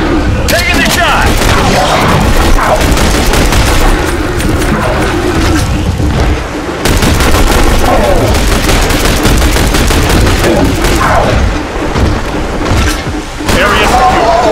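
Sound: gunfire from The Bureau: XCOM Declassified video game

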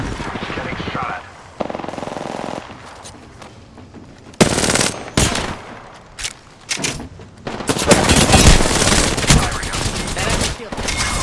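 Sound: gunfire in Apex Legends, from a video game

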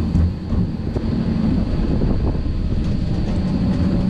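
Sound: roller coaster train running at Schwaben Park

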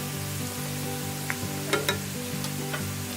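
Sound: roasting thin poha flakes with turmeric in a pan

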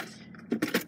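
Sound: keys jangling while searching for them

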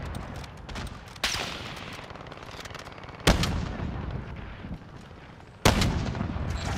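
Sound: sniper gunfire in a video game

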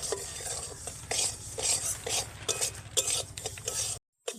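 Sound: semolina with milk powder being stirred and roasted in pan

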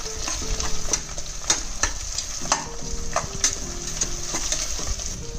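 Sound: onions sautéing in a pan

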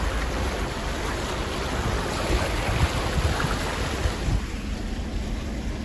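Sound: car driving through flood water on a road

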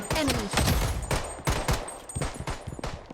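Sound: gunfire in the video game Blood Strike

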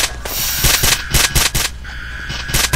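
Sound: gunshots from a Roblox video game gun

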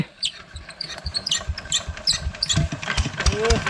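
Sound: engine of a water pump running to drain a pond

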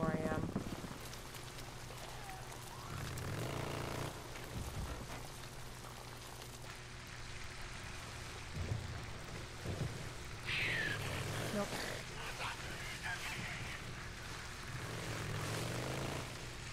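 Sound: rain falling in the video game Days Gone

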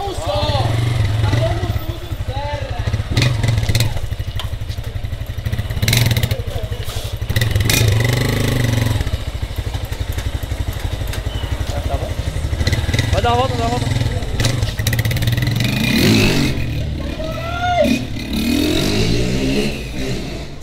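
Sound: Honda Titan motorcycle engine revving as it rides off

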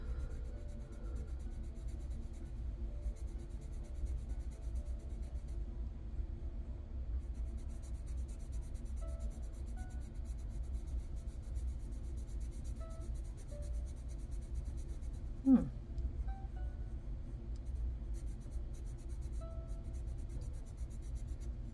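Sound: colored pencils scratching on paper while swatching

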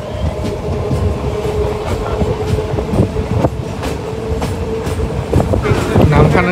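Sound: train arriving at Namkhana station

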